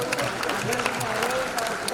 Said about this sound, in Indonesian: tepuk tangan buat teman-teman sekalian